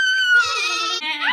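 A human voice mimics a sheep's wavering bleat, one short quavering call, close and clear.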